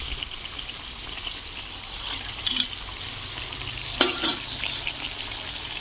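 Live crab dropped into a pot of simmering bottle gourd and Malabar spinach, a steady low bubbling sizzle with a couple of brief splashing clatters midway and near the end.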